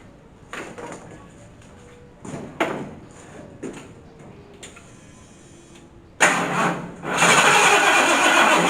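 A rat rod dually truck with a swapped-in 460 engine cranks in a few short bursts, then catches near the end and settles into a loud, steady run up close.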